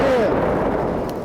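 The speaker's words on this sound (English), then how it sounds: "Cannon! Fire!" An artillery cannon of an artillery brigade fires one heavy, loud blast whose broad roar fills the whole moment and slowly decays.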